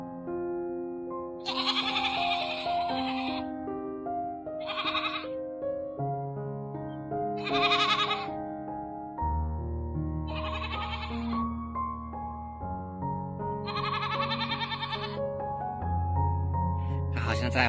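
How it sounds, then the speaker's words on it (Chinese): A ram goat on a farm bleats in loud, drawn-out calls, about six of them spaced a few seconds apart, over a steady tonal background. "你一只公羊叫得这么假你声音怎么这么假？"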